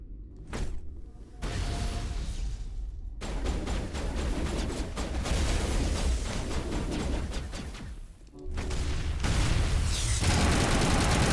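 A grenade detonates in Mass Effect Legendary Edition, a sustained, loud roaring blast with broadband rumble that fills the scene, broken by brief gaps and followed by further heavy bursts of combat noise.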